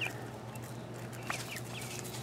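A backyard chicken hen clucks softly a few times over a steady low hum, faint and intermittent.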